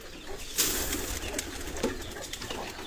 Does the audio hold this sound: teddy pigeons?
yes